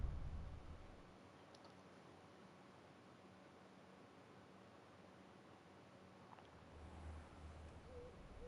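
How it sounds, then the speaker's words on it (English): Owl hooting in the Hogwarts Legacy video game, faint soft calls with a brief hoot near the end over a low, quiet ambient game backdrop. "Look at my owl."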